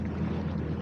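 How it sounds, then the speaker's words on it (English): Yamaha GP1800 SVHO supercharged jet ski running on the water, a steady close engine drone with wind buffeting, constant and unbroken throughout. "I am on a Yamaha GP 1800 SVHO. That's the supercharged version."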